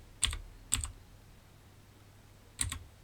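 Typing on a computer keyboard while entering a spreadsheet formula: three short bursts of quick, crisp key clicks separated by quiet pauses, close and clear, no talking.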